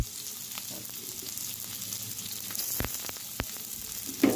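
Garlic and onions sautéing in a pan for chicken adobo, a soft steady sizzle with a couple of sharp utensil knocks near the end.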